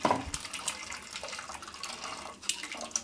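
Ground coconut mixed with water poured through a strainer to draw off coconut milk, a steady close trickle and splash of liquid with small bursts, no talking.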